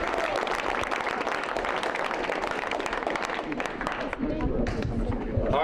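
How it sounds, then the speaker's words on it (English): An audience applauds in a room, steady close clapping with crowd noise mixed in, sustained throughout and fading slightly toward the end as some murmuring comes through. "A round of applause for them, by the way."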